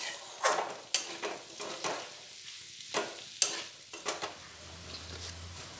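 Potatoes frying with onion and green chilli in a pan: intermittent spatula scrapes and stirring clatter over a soft sizzle, close and fairly quiet, no talking.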